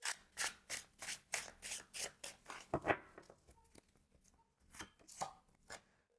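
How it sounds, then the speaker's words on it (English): Tarot cards are shuffled and drawn, a rapid run of crisp flicking and riffling card snaps up close, followed by quieter slides and a few more flicks. "Let's draw 3 more cards."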